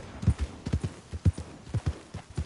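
Horse hooves clip-clopping in a PS4 video game, a steady trotting rhythm of close, distinct thuds in pairs and triplets.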